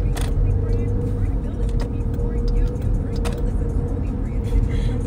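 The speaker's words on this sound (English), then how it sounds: "Looking at traffic" Road traffic with cars rolling past, a continuous engine rumble and tire noise close by, with a person talking over it.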